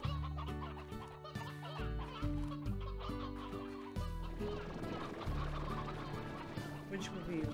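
Synthetic chicken clucks and squawks from the game Slime Rancher repeat over a looping, bouncy game music track, busy and fairly loud throughout.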